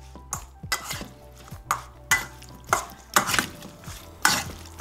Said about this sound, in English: Give the salad a mix,